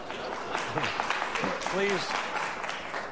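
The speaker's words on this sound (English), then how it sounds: "Please, no applause." Audience applause breaks out at a televised Florida governor's debate, a steady wash of clapping with a voice speaking over it.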